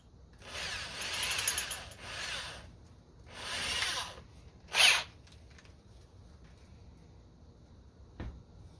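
Several short bursts of a power drill whirring as it drills a pilot hole in quiet surroundings, followed by a sharp click and a faint knock near the end.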